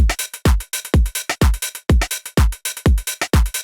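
Drum beat played back in Ableton with an extracted groove applied, punchy kick and snare hits alternating in a steady, slightly swung loop, close and loud with no other sound.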